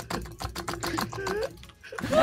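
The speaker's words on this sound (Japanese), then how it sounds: "タイプライター使ってるキーボード。" A clacky keyboard clatters like a typewriter during a League of Legends match, sending quick bursts of sharp key clicks. Voices talk over the typing throughout.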